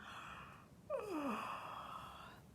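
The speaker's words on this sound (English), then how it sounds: "Yawn your sleepies out." A single quiet, breathy yawn close by, with a voiced sound sliding downward in pitch before trailing off.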